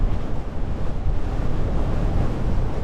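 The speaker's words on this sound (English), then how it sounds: "the wind is crazy and it's meant to get worse" Strong wind gusting over an exposed hilltop, buffeting the microphone with a loud, steady low roar and no pauses.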